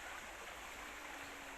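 A river in the Brecon Beacons near waterfalls gives a steady, broadband rush of flowing water throughout, close and even in level, with no other clear sounds.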